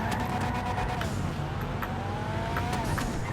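An Annis Hardy car in GTA Online drives with a loud, steady exhaust note and engine drone, the sound holding close and continuous with slight pitch sweeps as it runs.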